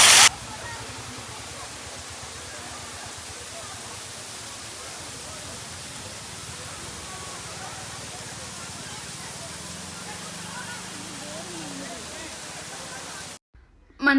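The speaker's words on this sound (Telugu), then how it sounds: "మనం పైకి వెళ్ళే దారిలో ఇలా వాటర్ ఫాల్ అయితే ఒకటి ఉంటుంది" A monsoon waterfall beside the winding road up to Matheran hill station roars as a steady, dense wash of falling water that fills the whole scene evenly and close by.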